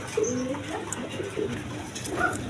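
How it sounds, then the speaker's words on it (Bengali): Pet pigeons coo in a loft, with several soft, throaty calls close by, repeated irregularly over faint background noise. "ওই কোকা দেখেন প্রচুর ডাকা ডাকতেছে"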